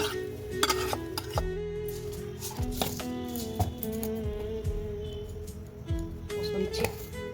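Food being stirred in a kadai, with a metal spoon scraping and clinking against the pan in irregular strokes over a low background hum, fairly close and steady throughout.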